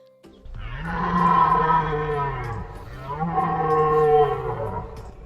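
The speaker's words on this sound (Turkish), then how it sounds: "Geyikler böyle ses çıkarır." Two long, low bellowing calls from a deer, each drawn out and droning, close and alone with a brief pause between them.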